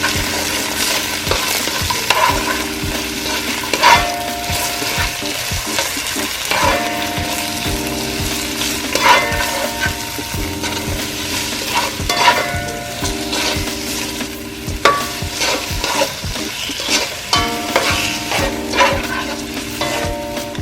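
A pan of ingredients for Jamaican-style steamed fish and okra sautes over medium heat, a steady close sizzle with repeated scraping and stirring strokes of a utensil against the pan throughout, no talk.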